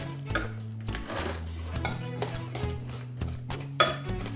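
Spoon or spatula mixing grated carrot into carrot cake batter in a bowl, with repeated soft scraping strokes and light clinks against the dish, close and fairly quiet.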